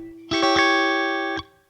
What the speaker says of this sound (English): You can either play it as a 16th note strum, just playing down, up, down,